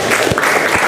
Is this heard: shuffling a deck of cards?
no